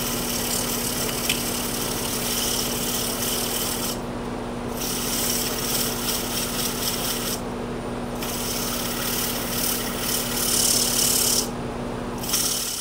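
Sandpaper rubbing against a spinning wooden key holder on a lathe, a steady continuous rasp over a constant motor hum, pausing briefly a few times, close and fairly loud with no talking.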